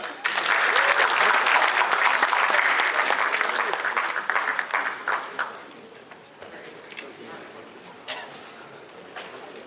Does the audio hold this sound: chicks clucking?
no